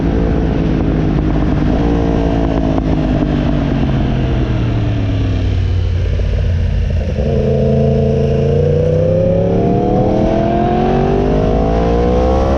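A 2016 Yamaha R1S sportbike with a crossplane four-cylinder engine, loud and close, holding steady revs and then rising and falling through a series of auto-blip downshifts, with sweeping engine tones and no talk.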